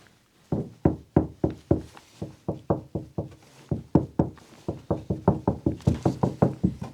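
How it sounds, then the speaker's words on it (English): Someone knocks by hand on a boat deck suspected of rotten core, producing a long run of close, sharp hollow knocks in steady rhythmic groups, with no voices. "they always say like knock on the deck, and then you can find where the deck is bad because of how it sounds"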